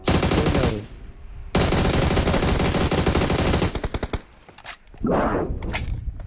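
Rapid bursts of automatic gunfire rattle loudly, broken by short pauses and scattered single shots, with a brief quieter stretch before firing resumes.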